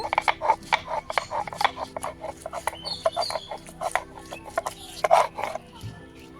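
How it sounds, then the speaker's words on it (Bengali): Garlic and ginger being ground on a village grinding stone, a steady series of rough rasping scrapes in a regular back-and-forth rhythm, close by, with faint bird and chicken sounds in the background. "এখন এখানে আমি কিছু রসুন আর আদা বেটে নিব।"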